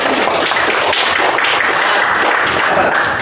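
A class of students claps during a school lesson, a loud, continuous burst of applause that holds steady for a few seconds, close and full.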